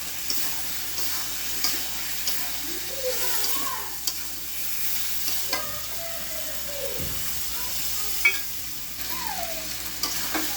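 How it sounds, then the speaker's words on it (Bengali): Potatoes and tomatoes sautéing and being stirred in a pan with salt, chilli paste and a little water, giving a steady low sizzle with occasional scrapes and spoon knocks throughout. "আলুটা দিয়ে দিলাম এর ভিতরে টমেটো দিয়ে ভালো করে কষাই নেব"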